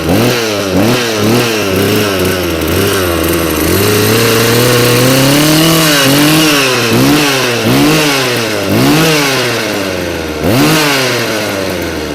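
A Husqvarna chainsaw with very low compression runs loud and close, its two-stroke engine revving up and dropping back in repeated surges that rise and fall over about twelve seconds with no speech.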